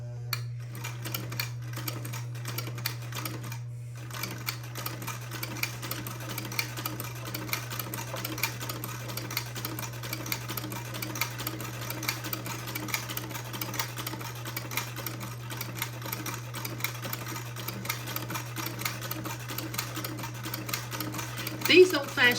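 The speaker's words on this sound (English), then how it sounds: "and proceed to sew the last buttonhole." Sewing machine fitted with an old-fashioned buttonholer stitching a buttonhole: a fast, steady mechanical chatter with a constant low motor hum, close and continuous for over twenty seconds.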